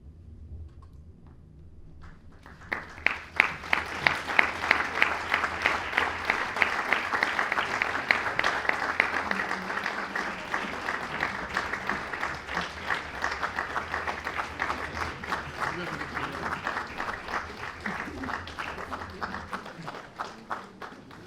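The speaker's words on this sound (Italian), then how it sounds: "Ancora un applauso alle compagnie che si sono esibite." A theatre audience at a short-play festival breaks into applause for the performing companies, rising quickly after a quiet start into dense, sustained clapping that carries on loudly throughout.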